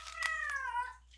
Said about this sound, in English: God damn, fucking cat's loud.